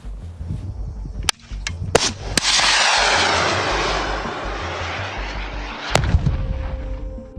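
American Javelin anti-tank missile fired at enemy tanks in Ukraine: sharp cracks, then a loud sustained roaring whoosh of the missile in flight that slowly fades, followed by a distant impact thump.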